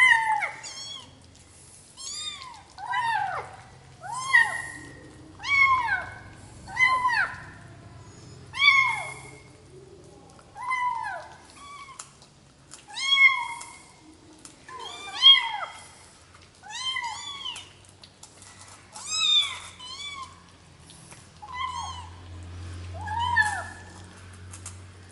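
Kittens from a litter of six, eating rice for the first time, meow repeatedly in short high rising-falling calls, several voices overlapping at close range in an otherwise quiet room.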